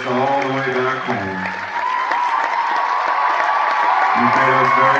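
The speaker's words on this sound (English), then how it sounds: "your applause will be resonating in our heads all the way back home" A concert audience at Vassar College in 1996 applauds and cheers in a steady, full roar, while a voice speaks over the crowd through much of it.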